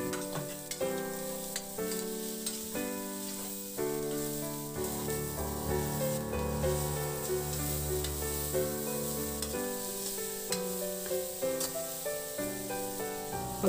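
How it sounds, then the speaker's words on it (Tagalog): Garlic and onion sauté in rendered pork liempo fat with a quiet, continuous sizzle and occasional stirring, mostly masked by melodic background music. "Pagkatapos yan, igisa na rin natin dyan yung bawang."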